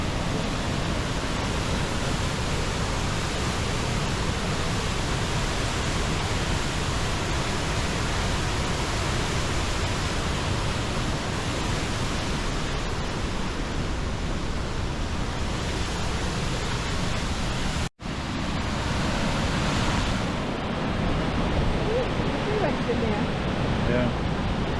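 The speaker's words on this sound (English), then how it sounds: "Now enjoy some of the sights and sounds from this amazing waterfall." Steady, dense roar of Athabasca Falls, a broadband wash of rushing water heard close and loud throughout, with one brief dropout near the end.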